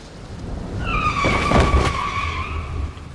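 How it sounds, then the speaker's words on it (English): A truck skidding in the visual novel game Root Film, its tires letting out a long rising-and-falling squeal over a low engine rumble, loud and close, with a thudding impact in the middle. "the truck flies into frame, slamming into the woman"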